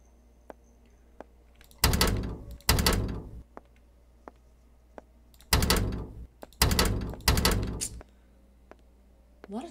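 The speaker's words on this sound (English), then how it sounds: "A lot of doors." Doors in the indie horror video game Skinned Alive slide open and shut in heavy mechanical whooshes, coming in two clusters of rumbling bursts separated by quiet clicks.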